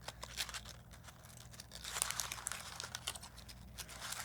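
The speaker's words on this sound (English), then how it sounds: "You will glue your paper cupcake liner to your paper." Paper cupcake liner handled and glued onto construction paper, a quiet, close series of soft crinkles and rustling scrunches in irregular bursts, with no talking.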